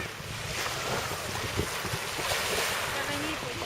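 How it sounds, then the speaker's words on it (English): Wind gusts buffet the microphone at East Cowes seafront, rumbling over the wash of waves, with faint voices under the noise. "It's quite windy today, isn't it, Joe?"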